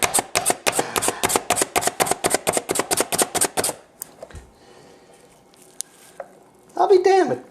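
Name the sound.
Slap Chop chopper chopping an onion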